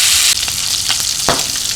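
Pork stir-fried with bean sprouts in a pan, heard up close with a strong hissing sizzle and a few sharp scrapes and knocks from the spatula moving the food.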